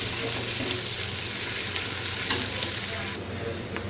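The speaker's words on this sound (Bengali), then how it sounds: "পেঁয়াজ সুন্দর করে ভাজা হয়ে গেছে।" Chopped onions sizzle steadily in hot oil as they fry toward brown for a banana-flower and prawn curry, a close, continuous crackle with no voices.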